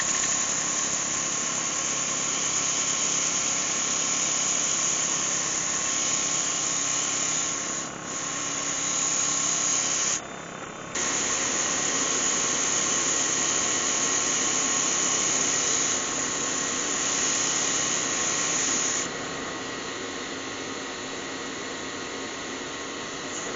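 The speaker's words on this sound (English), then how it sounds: "I reckon I'll go straight in and sand that down now" A silver birch hollow form spins on a wood lathe while being sanded, a steady whirring hum with a thin high whine and broadband rasp that runs loud and unbroken, briefly dipping twice before carrying on alone.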